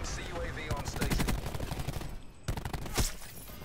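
Shotgun blasts ring out in a first-person shooter video game, several rapid heavy shots in a burst followed by two more isolated bangs, loud and close.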